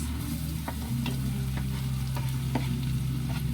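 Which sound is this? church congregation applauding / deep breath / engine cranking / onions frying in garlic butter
onions frying in garlic butter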